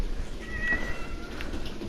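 A cat meows once, a short tonal call rising clearly over a constant low background hum.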